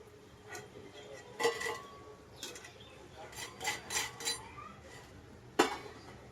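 Crispy fried vada snacks are lifted out into a metal strainer, with scattered clinks and scrapes of utensil against metal spaced over several seconds against quiet kitchen background.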